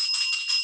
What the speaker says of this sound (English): That's my champagne bell.